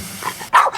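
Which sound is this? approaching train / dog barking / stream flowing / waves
dog barking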